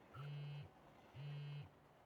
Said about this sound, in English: Oh, phone call. Or text message at least.